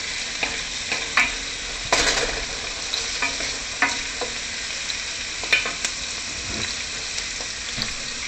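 Onions soften in a hot pan for a tomato-based spaghetti sauce, hissing in a steady broad sizzle, with occasional clicks and scrapes of stirring scattered through it and no one talking.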